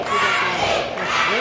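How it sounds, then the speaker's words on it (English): Wrestling match crowd in an arena cheering and shouting together, a loud, dense roar of many voices sustained throughout without a break. "Crowd's getting into it, trying to get Andy out of this."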